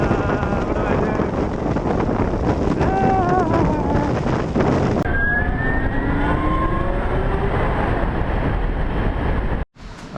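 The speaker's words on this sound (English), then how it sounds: "I'm riding into the wind" Strong wind buffeting the microphone on a Sur-Ron Light Bee electric bike ridden into a headwind, a continuous roar with a faint rising motor whine, then a sudden brief dropout near the end.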